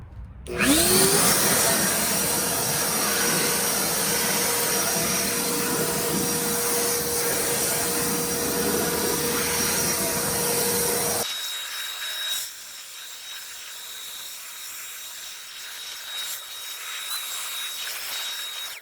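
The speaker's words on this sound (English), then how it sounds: "I'm gonna first take a leaf blower and blow out the inside of the base" A loud, steady leaf blower roars up close for about eleven seconds, blowing debris out of a car engine bay, then cuts off, leaving a quieter rumbling hiss behind.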